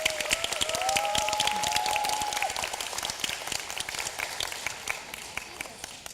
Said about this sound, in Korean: 양 팀에게 다시 한번 뜨거운 박수 부탁드리겠습니다